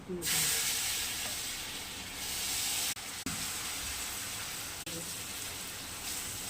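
Hot oil sizzles steadily in a pan while gola roti batter cooks, a continuous close hiss with a couple of brief breaks.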